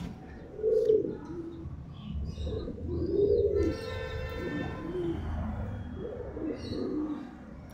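Madras pigeons coo in repeated low, throaty phrases from close by, with soft chirps and faint background noise between the calls, kept in a pen at a home loft.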